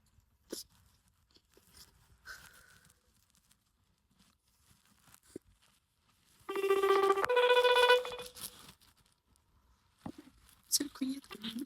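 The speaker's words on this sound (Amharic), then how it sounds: "ስልኩ" A telephone rings in a quiet indoor room. The ringtone is a bright, tonal burst lasting under two seconds, heard between soft rustling and clicks, with a voice briefly speaking afterward.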